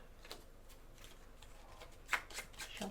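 A deck of game cards for a solo board game being shuffled by hand, soft riffling flutters in short bursts, close and quiet, with a couple of sharper taps near the end.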